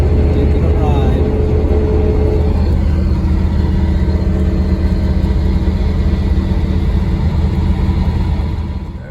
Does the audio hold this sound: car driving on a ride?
yes